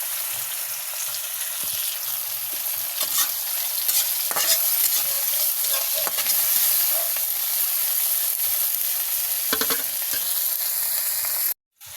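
Banana frying with bagoong (fermented shrimp paste) and tomato in a pan, giving a steady loud sizzle and hiss with scraping stirring strokes throughout, no talking.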